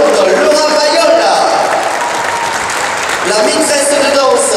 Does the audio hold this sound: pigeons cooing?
no